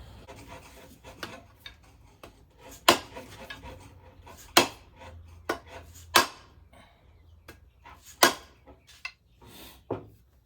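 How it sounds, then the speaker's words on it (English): A vintage Collins double bit axe head is tapped down onto its wooden handle in a series of sharp, separate knocks spaced a second or more apart, close and fairly quiet against a still room. "Give it a couple more taps and hopefully meet our goal mark right about there"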